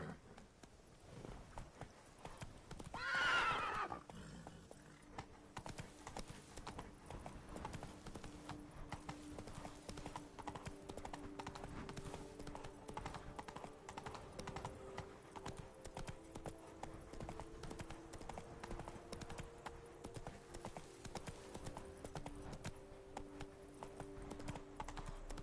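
Horse hooves clip-clopping steadily at a gallop through the whole stretch in The Witcher 3, riding into Toussaint, with a brief louder burst near the start and a faint low hum beneath.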